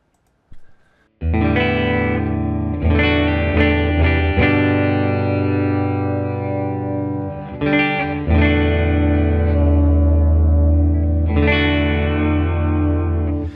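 Sustained electric guitar chords on a Mike Campbell Red Dog Telecaster ring out with a wavering, warbling tremolo-bar vibrato, swelling and restruck a few times, loud and close with no talking.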